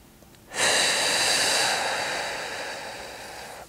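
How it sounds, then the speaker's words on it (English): A deep breath drawn in during a Pilates reformer exercise, a single long airy inhale starting abruptly and slowly fading over a few seconds, close and clear with no talk. "Big breath in, expanding in every direction."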